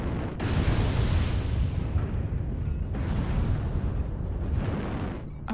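Heavy rumbling blasts and booms from an artillery strike in the MechWarrior Online video game, a dense, continuous roar of explosions with brief dips, loud and sustained throughout.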